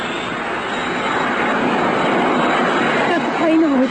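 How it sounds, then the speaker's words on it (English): Airplane descending in an old-time radio drama sound effect, a loud continuous engine roar that holds steady and swells near the end, with a rising whine at the close. "Does the plane always come down this fast?"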